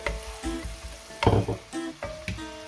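Onion and garlic sizzle in oil over medium heat, a close crackling fry broken by a few clattering stirs of a utensil against the pan.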